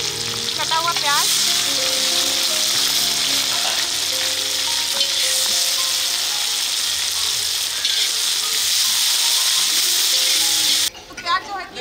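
Chopped onion, cumin and green chilli fry in hot oil with a loud, continuous sizzle and occasional stirring scrapes, while some voice-like sounds carry faintly in the background.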